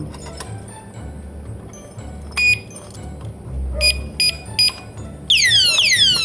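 Repeated shrill electronic beeps from a padlock alarm, in short bursts amid clinking and handling noises, ending in a continuous warbling siren tone.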